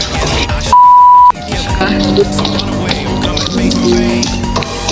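A steady censorship tone cuts in for about half a second over a swear during casual Ukrainian chat, loud and flat, with talking and game sounds continuing around it.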